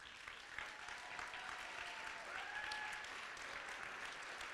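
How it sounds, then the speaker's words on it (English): A crowd at a ribbon cutting for a Goodwill opportunity center applauds partners, a soft, even wash of clapping that sounds fairly distant and keeps going for several seconds. "please stand up and get a round of applause for them"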